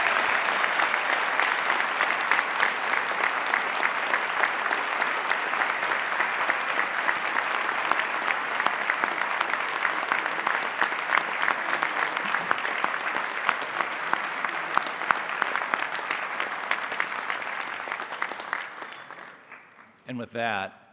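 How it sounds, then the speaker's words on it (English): A community scholarship ceremony crowd gives a long, full round of applause for the scholarship winners, loud and sustained before fading out, with a voice picking up at the very end. "how about a hearty round of applause for our scholarship winners?"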